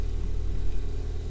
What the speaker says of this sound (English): start it up, make sure everything runs alright